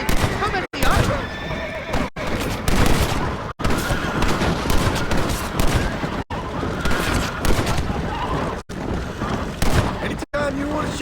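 Gunfire in the Western video game Red Dead Redemption: repeated shots crack through a busy mix of horses whinnying and hooves clopping, with voices talking over the action.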